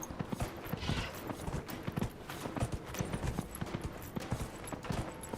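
Horse hooves clip-clop at a steady galloping rhythm in the Dragon Age video game, close and fairly loud, with faint mechanical creaks beneath.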